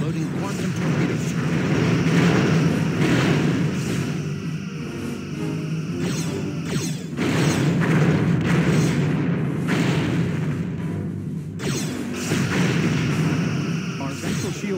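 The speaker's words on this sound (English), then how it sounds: "Loading quantum torpedoes." Quantum torpedoes fire in the Star Trek Bridge Commander game during a starship battle against Klingon cruisers, as a series of loud, booming weapon discharges about every few seconds, with voices talking over the combat.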